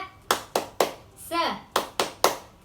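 Children clap their hands in a steady group rhythm, six sharp claps in two groups of three with a brief voiced call between them, close and fairly loud in a classroom.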